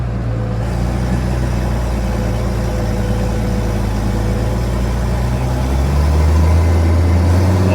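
A JCB Fastrac tractor with a part-straight-through exhaust idles with a loud, steady, deep growl that stays close and constant, with a slight shift in pitch near the end.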